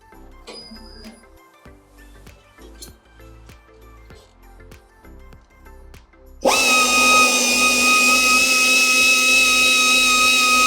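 A power grinding tool starts up abruptly partway through and whines loudly and steadily against a tire in a repair shop. Before it begins there are quiet ticks and workshop clicks.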